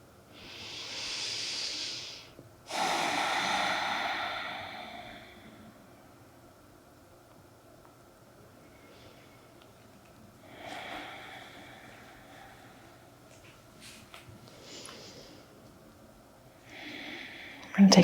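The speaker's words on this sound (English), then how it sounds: "We're going to take another few breaths here." Slow deep breaths during a guided self-love meditation exercise, two long airy inhales and exhales near the start followed by softer, fainter breaths spaced out across a quiet background.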